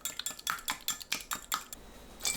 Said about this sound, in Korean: 계란 2개 풀어서 준비합니다